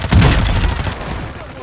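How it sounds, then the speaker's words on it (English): Gunfire in the video game Warzone 2, a loud burst of close shots at the start followed by a rumbling tail of further firing and battle noise. "I'm getting shot."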